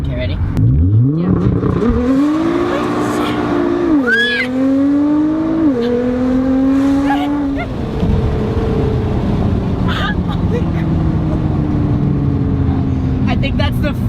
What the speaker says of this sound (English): I think that's the first time I've ever done actual launch control on camera